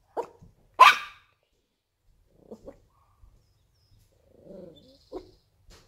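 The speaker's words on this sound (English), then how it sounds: "what are you barking at?" A dog barks in sharp, separate bursts at close range, with softer grunting and whining noises in the gaps between barks, inside a van at night.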